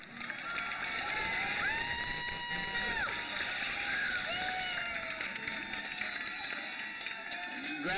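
At a high school graduation ceremony, the crowd cheers and applauds steadily, with whoops and shouts rising over continuous clapping across the whole stretch.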